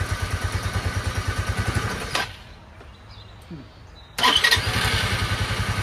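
A cheap Chinese motorcycle engine idling with a fast, even putter, stopping for about two seconds, then cranking and catching again into the same steady idle, close and loud.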